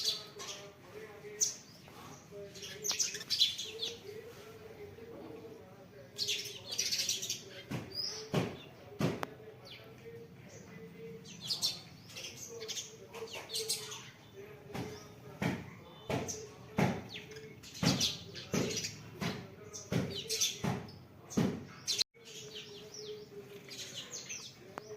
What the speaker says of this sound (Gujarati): કિલોલ કરે હો ચકલા.